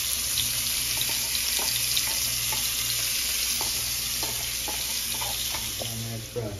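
Onion and garlic sizzle in rendered bacon fat in a pan, a steady close frying hiss with light stirring clicks, no talk over it.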